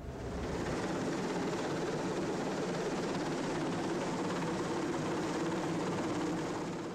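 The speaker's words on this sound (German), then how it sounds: "Immer wieder fliegt der Helikopter die Neuwerk an, verharrt kurz und wendet wieder ab" A coast guard helicopter hovers over the ship Neuwerk, its rotor and turbine roar steady and loud throughout, with no speech, only the dense, continuous beating drone.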